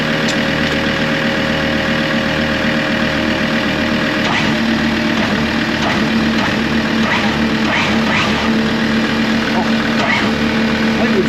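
A boat engine fitted with a new alternator runs at a steady idle with a low, even drone and slight knocking vibration, no belt squeal, loud and close throughout.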